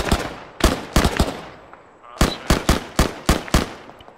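Gunfire in the military simulation game Arma 3, sharp loud shots in quick clusters, several rapid reports, a pause, then another run of about six evenly spaced shots, close and dominant.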